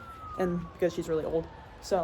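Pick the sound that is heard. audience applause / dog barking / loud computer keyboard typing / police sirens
police sirens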